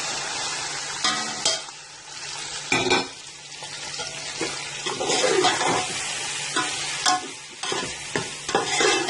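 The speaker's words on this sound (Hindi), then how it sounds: "ये इसको तकरीबन हम 5 से 10 मिनट तक मजीद फ्राई भी करेंगे" Mutton pieces frying and stirred in plenty of oil in a pot while making shahi haleem, a steady close sizzle broken by scraping stirs, with no voices.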